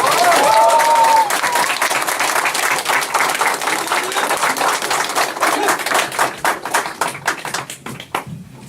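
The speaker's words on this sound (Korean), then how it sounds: "뜨거운 박수로 맞이해주십시오" Audience at a mayoral candidacy press conference in Bucheon gives loud, sustained applause close by. The dense clapping thins into scattered claps and fades out over about eight seconds, with a brief tone at the start.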